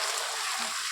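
Mint and fenugreek leaves fry in hot oil in a pan for chicken dum biryani, giving a loud, dense, continuous sizzle that holds steady from start to finish with no talking.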